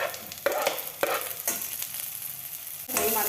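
Chopped onion frying in a pan for gorekayi palya, a steady close sizzle broken by several sharp stirring scrapes and clatters, with no talking.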